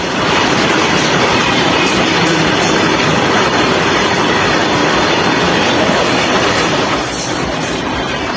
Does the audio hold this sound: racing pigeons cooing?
no